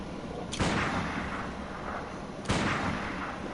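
Gunshots in the Bloodborne video game: two sharp, loud broadband blasts about two seconds apart, each leaving a short decaying tail over steady game ambience.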